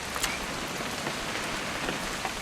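Steady rain pours down in the video game What Remains of Edith Finch, a dense, even hiss of drops pattering on surfaces, with no voices over it.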